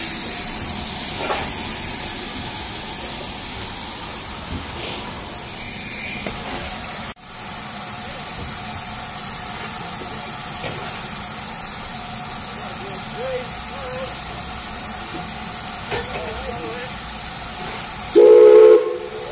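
A steam locomotive at a railway spring steam gala hisses loudly and continuously for the whole stretch, with a brief sharp break partway through and a short whistle blast near the end.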